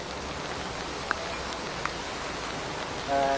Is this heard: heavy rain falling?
yes